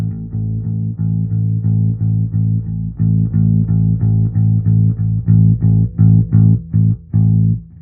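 Fender Super Bassman tube bass amp with its overdriven second channel blended in: a distorted, buzzy bass line of evenly repeated plucked notes, loud and close, with brief gaps between phrases and no talking.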